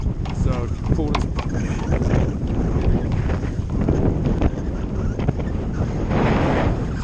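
Strong gusting wind of 20 to 25 knots buffets a sailboat under staysail on the Intracoastal Waterway, a constant loud roar and microphone rumble with brief flaps and knocks throughout.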